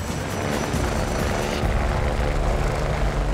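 A rescue helicopter over the beach at Piha fills the air with a loud, continuous rotor thump and engine roar, holding steady as it moves off, with no talk over it.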